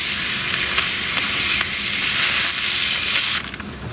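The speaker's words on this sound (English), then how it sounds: "Let's get some steam in these glue joints." A steamer blasts steam into the glue joints of a wooden chair under repair, a loud and steady hiss that keeps going for several seconds and then drops away abruptly near the end, with no one speaking.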